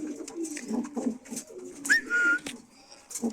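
Taora line breeding pigeons coo close by in soft, repeated throaty bursts, with a brief thin whistle-like note partway through and a few light rustles.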